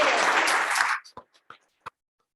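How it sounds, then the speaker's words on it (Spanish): An audience at a university academic-year inauguration applauds the Central Bank president, a burst of many hands that stops abruptly, leaving a few scattered late claps. "Quiero pedir un aplauso a la presidenta del Banco Central, Rosana Costa"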